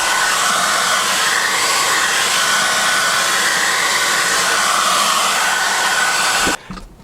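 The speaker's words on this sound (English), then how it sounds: "we want to get our hairdryer on, nice light, not on the mega hot setting" A hair dryer on a gentle, not-too-hot setting blows steadily and loudly at close range, drying paint on a 1/48 scale HobbyBoss F-14D Super Tomcat model, then cuts off abruptly near the end.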